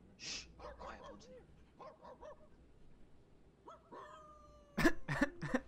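Pet dog Bonesy in a video game giving short, pitched yelps and whimpering barks, several scattered bursts that grow louder near the end, heard faintly under a quiet game background with people talking.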